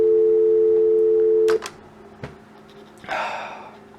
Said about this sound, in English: and you get a dial tone.